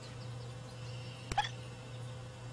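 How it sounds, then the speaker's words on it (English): A baby bat gives a tiny hiccup, a single brief squeaky click with a faint follow-up, close over a steady electrical hum. "He's got the hiccups. The bat has the hiccups."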